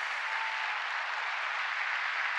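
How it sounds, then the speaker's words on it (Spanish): A church congregation applauds during a Sunday evening service, a dense, steady wash of many hands clapping that holds loud and even for the whole stretch with no voices over it. "denle un aplauso al Señor Jesús"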